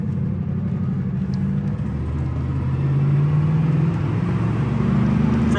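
A 1979 Pontiac Firebird Formula with a small-block engine idles steadily, giving a continuous low rumble with a slight rise in intensity partway through. No voices are heard.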